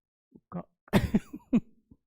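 A few sharp coughs in a short burst, close and fairly loud, with a brief pause between them.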